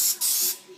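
Cooking spray hissing out of a can onto a baking pan for breadsticks, two close bursts of aerosol spray separated by a brief pause, then a fading tail.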